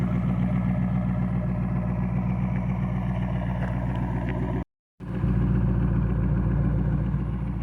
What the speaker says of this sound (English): the exhaust sounds nasty